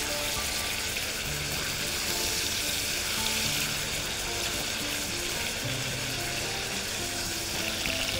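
Steak searing in a hot pan, a steady dense sizzle and crackle of frying filling the whole stretch with no letup, close and fairly loud, with no talking.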